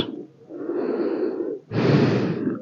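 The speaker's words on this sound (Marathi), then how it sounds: "एक दीर्घ श्वास सोडा" Slow, deep breaths during a back-strengthening yoga asana: a drawn-out airy inhale, a brief pause, then a louder, fuller exhale, close and alone with no talk.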